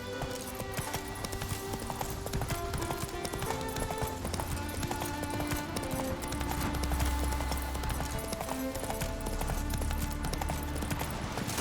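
A horse gallops in The Witcher 3 video game, with steady, continuous clip-clop hoofbeats at moderate level over a busy background of game sound throughout.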